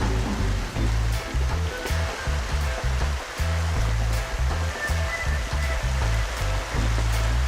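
Wind and heavy rain of a passing squall roar around a sailboat held head to wind at night off Charleston, South Carolina, a loud, steady rushing wash with buffeting gusts throughout and no voices.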